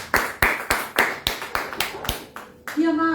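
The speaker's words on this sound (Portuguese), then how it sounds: "Aplauda o Senhor." Hands clap in a church service in a steady rhythmic beat, about nine sharp, distinct claps in even succession, each ringing briefly in the room, before a voice starts up at the end.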